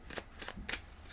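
Animal oracle cards being shuffled in three brief, soft riffling bursts, close and quiet over a low background hum.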